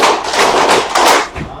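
A primary school class of grade 5 pupils claps together in a dense, loud burst of rhythmic hand claps, counted out as a group, filling the room with overlapping strikes.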